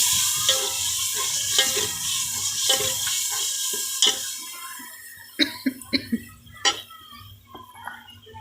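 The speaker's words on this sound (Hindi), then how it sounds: "मसाले को भूनते हुए हमारे तकरीबन 3 से 4 मिनट हो चुके हैं।" Yogurt masala roasts in a pan for chicken with moringa, crackling and sizzling under scraping stirs, with a couple of coughs and sharp utensil knocks against the pan near the end.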